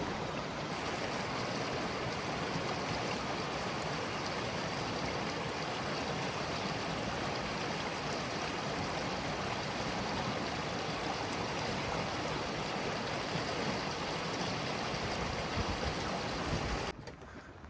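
Water of Clear Creek in the Grand Canyon rushes steadily and fairly loud for the whole stretch, a constant broadband wash that cuts off abruptly near the end.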